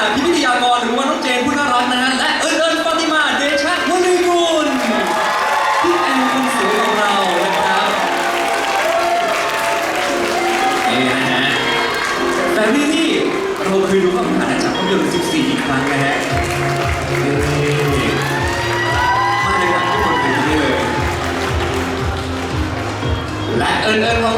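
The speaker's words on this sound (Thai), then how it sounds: "ขอเสียงกรี๊ดและเสียงปรบมือดังๆให้กับ น้องแฟรี่กิรณา" Gala film premiere audience screaming and clapping loudly for a young actress, sustained applause and shrieks mixed with an announcer talking over the crowd throughout.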